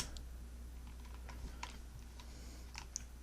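Sparse, faint keystrokes typing a git commit command on a computer keyboard, scattered clicks over a low steady room hum, no talking.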